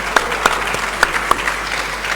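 Applause from an audience at a commemoration ceremony marking the 150th anniversary of the Sagrenti War, a steady wash of clapping with a few sharper claps standing out, moderately loud and fairly close.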